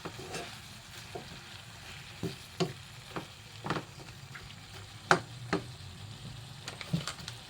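Chop suey stir-fried in a pan gives a soft, steady sizzle, with irregular scrapes and clacks from stirring breaking through every second or so.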